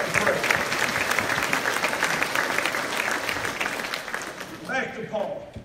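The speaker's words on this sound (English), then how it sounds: "Somebody give him a hand clap for prayer." Church congregation applauding after a prayer, a steady wash of clapping throughout that tapers as a voice begins speaking near the end.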